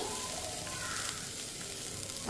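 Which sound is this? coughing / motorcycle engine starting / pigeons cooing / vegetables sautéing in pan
vegetables sautéing in pan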